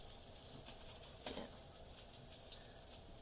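Pupusas sizzle quietly on a small stove burner, a soft continuous frying hiss with a brief scrape or stir near the middle.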